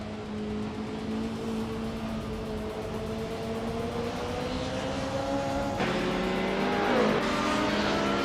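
A 1995 BMW M3 GT-R race car in a racing video game, its engine holding a steady droning note that slowly climbs in pitch, then shifts gear and swoops near the end, loud and continuous with no talk.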